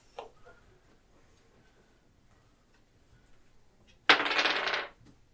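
Dice rolled once during a tabletop fantasy role-playing session, a sharp clattering burst of about a second that stands alone after near silence, with a faint tap just before.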